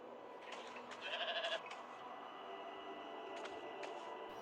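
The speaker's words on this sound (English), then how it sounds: "Home where you belong, sheepy sheep." In the School of Dragons video game a sheep gives one short wavering bleat, faint and close, over a quiet game background hum, with a few soft clicks around it.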